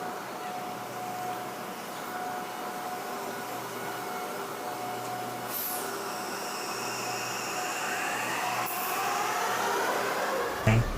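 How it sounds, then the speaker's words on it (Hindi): Delhi Metro Blue Line train at Rajiv Chowk station, an underground interchange, heard as a steady loud rumble and hiss with a faint tonal hum and a few brief clanks throughout, with no one talking. "ये blue line metro Rajiv Chowk की वीडियो है।"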